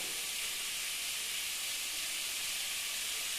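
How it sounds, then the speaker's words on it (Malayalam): Onions sautéing with salt in a hot pan, a steady, even hiss of sizzling that holds at a constant level throughout without any talk. "ഈ സവോള നന്നായിട്ട് വഴറ്റിട്ട് ഒരു അഞ്ചാറ് മിനിറ്റെങ്കിലും നന്നായിട്ട് വഴറ്റിയാൽ"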